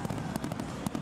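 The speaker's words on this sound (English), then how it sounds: "The sound of fireworks." Fireworks at a Women's State of Origin rugby league match crackle and pop in a rapid, dense burst of repeated bangs.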